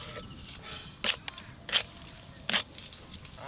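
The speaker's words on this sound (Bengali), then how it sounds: "এই যে আমি সিম কাটছি" A knife cuts flat beans (shim) in a village kitchen: a few soft, close clicks and chops at irregular intervals, with faint background noise.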